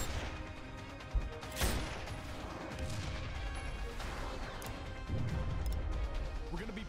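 Mortar fire in the video game Sniper Ghost Warrior 2: a sharp crash and a boom stand out over a dense, rumbling battle backdrop, with further thuds later in the clip.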